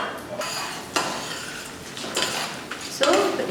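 Spoon scraping and clinking against a pan as tur dal is stirred and dry-roasted, a steady close scratching with a few sharper knocks, alone without talk.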